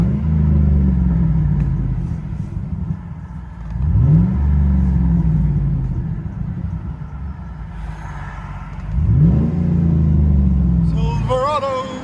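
A 2009 Chevy Silverado LT with a 5.3L V8 and a single Dynomax Race Bullet exhaust idles with a deep rumble, then revs three times, each rev rising in pitch and falling back. Heard from inside the truck.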